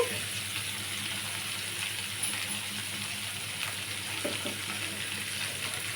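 Onion and curry leaves fry in a pan for onion palya, giving a steady, faint sizzling hiss with a few small metallic clinks, heard alone without speech.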